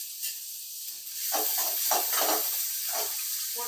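Onions sauté in hot oil with cinnamon and cloves as a hissing sizzle that grows louder partway through, broken by the soft scrape and rustle of stirring.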